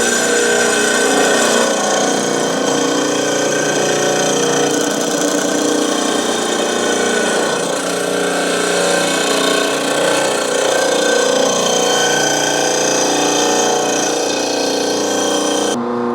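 A power tool hums steadily while sharpening a mower disc blade, a loud, close, unbroken mechanical drone with grinding overtones and no talking.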